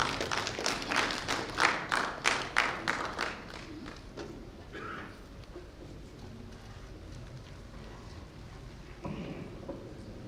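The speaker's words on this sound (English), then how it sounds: "A round of applause." An audience claps at a pension forum, a brisk burst of applause that fades after a few seconds into quiet room noise with a few scattered claps.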